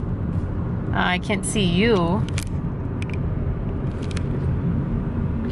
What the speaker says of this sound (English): This is a cool car coming up.